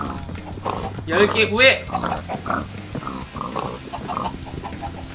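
A pig in the Minecraft video game gives a few short oinks in a quick cluster, mixed with game sounds, while a person talks throughout and over the grunts.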